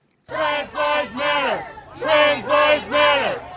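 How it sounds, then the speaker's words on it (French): Protesters outside the Netflix building in Hollywood chant in unison, two groups of three loud rhythmic shouted syllables separated by a short pause, voices close and strong. "Le bruit au pied de l'immeuble Netflix à Hollywood vient des militants venus soutenir cet arrêt momentané du travail"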